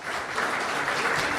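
A debate audience claps together in a steady, sustained round of applause, fairly loud and even throughout, with no talk over it.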